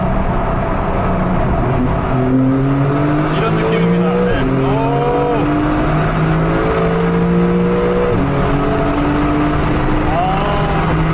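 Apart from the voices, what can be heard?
Porsche 911 Carrera 4 GTS exhaust sound in tunnel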